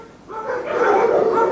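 Dogs bark and yip from rows of pens at a rescue boarding kennels in 1995. The sound is loud and close, in steady overlapping bursts with no gaps.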